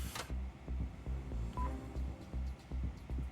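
Phone keypad tones from Yakuza 5 beep in a quick run of short, evenly spaced presses, clear and close over a low background hum, with no talking.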